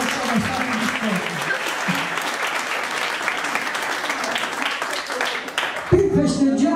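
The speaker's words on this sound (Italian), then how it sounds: "Un applauso alla scorta," Crowd applause for an escort at a 2015 Women's Day celebration, sustained dense clapping throughout, with a voice breaking in near the end.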